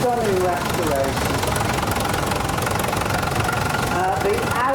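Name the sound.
vintage tractor engine running at rally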